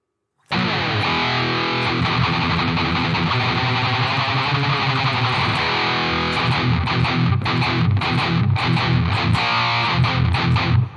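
A distorted electric guitar with a touch of reverb, played through an iOS impulse response loader app, rings out in loud, sustained chords and chugging riffs for about ten seconds with no talking.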